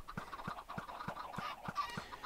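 Chickens clucking in the Minecraft 1.5 game, a steady run of short, evenly spaced clucks repeating about every third of a second, moderately loud and close with no talking.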